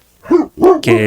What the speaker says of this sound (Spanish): Perdón por los ladridos.